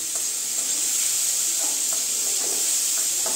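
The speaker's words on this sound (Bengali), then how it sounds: "স্টিমটা আমি কমিয়ে দিচ্ছি।" Steam hisses steadily over carrots cooking for gajar ka halwa, a constant close sizzle with soft, faint stirring taps scattered through the short stretch.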